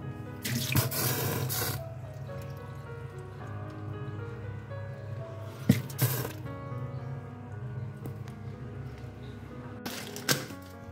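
Water is poured onto the heater of a BPL double-door refrigerator during a repair test, giving a close trickling, splashing flow with a few sharper spattering bursts.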